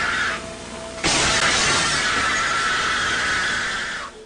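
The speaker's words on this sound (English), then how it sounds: "he is shrieking like a wild animal and destroying the whole room" A man shrieks like a wild animal while destroying a room, a harsh, loud, sustained burst of noise that erupts after a brief quieter start and holds to the end, with no speech.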